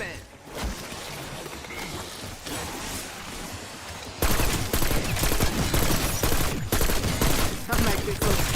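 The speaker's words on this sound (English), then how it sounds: "Shredding through ammo in this gun" Rapid automatic fire from a Swat 5.56 rifle in the shooter game Black Ops 6, dense bursts of loud shots that grow heavier and more continuous in the second half, with game sound effects around them.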